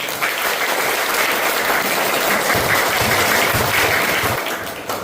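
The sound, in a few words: audience applause for Ronaldo fans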